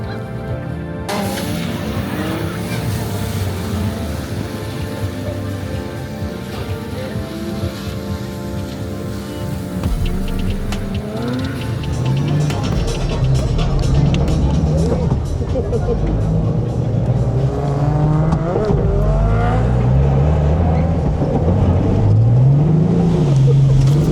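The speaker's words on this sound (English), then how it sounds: "some sick passenger laps around the figure 8 circuit" A race car drifts around a wet figure-8 circuit at Sydney Motorsport Park, heard from the passenger seat: a loud, close engine revs up and down without a break, its pitch swooping as the car slides through the turns.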